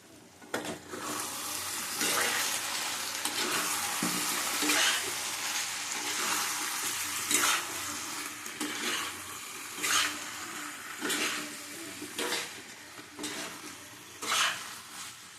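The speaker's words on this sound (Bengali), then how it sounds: "এটা ভালো করে কষিয়ে তারপরে জল দেবো।" Soybean chunks sautéing in a little oil in a pan, a soft steady sizzle broken by regular bursts of stirring and scraping at close range, with no talking.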